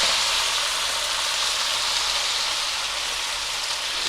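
Fresh spinach hits hot oil with fried chillies in a pan, giving a steady, close, even sizzle with no break and no voices.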